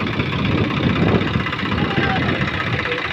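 A Swaraj 855 tractor engine runs steadily while the tractor makes straw chaff, a loud knocking diesel rumble heard close throughout, with a voice over it.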